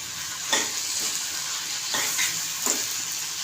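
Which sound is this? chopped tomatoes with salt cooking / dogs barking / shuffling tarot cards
chopped tomatoes with salt cooking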